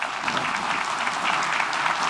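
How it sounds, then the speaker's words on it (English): Audience applause at a Sun City annual community meeting, a steady wash of clapping from a seated crowd, even and sustained throughout without pauses or voices. "please give them another big round of applause"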